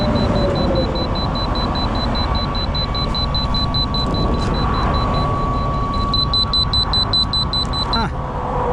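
A steady high electronic beeping repeats over a constant loud rumble, speeding into rapid beep bursts near the end before stopping.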